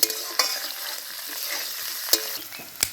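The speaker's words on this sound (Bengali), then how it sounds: "আমি এখন ক্যাপসিকামটা দিয়ে দেবো দিয়ে দেবো কয়েকটা লঙ্কা কুচি দিয়ে আবার মিশিয়ে নেব" Capsicum and chopped green chillies stirred and fried in a pan for vegetable chowmein, a continuous sizzle broken by a few sharp spatula scrapes and clacks against the pan.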